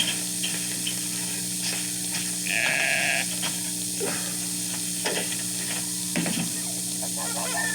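A sheep bleats once on a 1960s family farm, a short, clear call standing out over a steady sizzling background, with a few faint clicks and thuds scattered around it.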